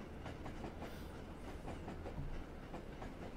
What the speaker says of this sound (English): Oh, look, there's another train coming.